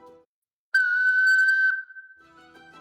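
A homemade tin whistle sounds one clear, sustained note at close range after a short pause. The tone softens and trails off into a quieter, breathier held pitch.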